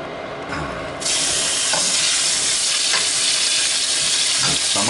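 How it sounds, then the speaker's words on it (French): Beef chunks for boeuf bourguignon sizzle loudly in oil in a pot, a dense steady frying hiss that jumps up after the first second, with occasional stirring scrapes and no talking. "je vais faire sauter ma viande"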